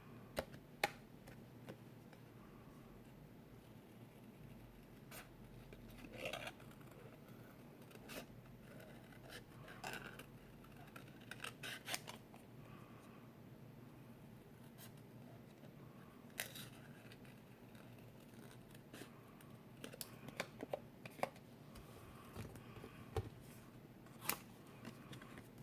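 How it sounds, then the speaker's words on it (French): Scissors snip through cardstock while a scrapbooking card is made, close but faint, with small irregular clicks and crisp cuts scattered over a quiet, low hum and no speech. "Alors je coupe en laissant un liseré blanc."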